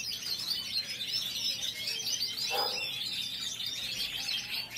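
Many small birds chirp busily and continuously in an aviary, their dense high twittering steady and close, with one brief lower call standing out midway.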